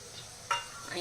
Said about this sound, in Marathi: हे टाकल्यानंतर आपल्याला हे छान फ्राय करून घ्यायचं